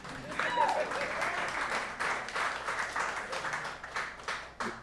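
Audience applause in a talk-show setting, a steady patter of clapping hands that swells and continues for several seconds at moderate distance, fairly quiet.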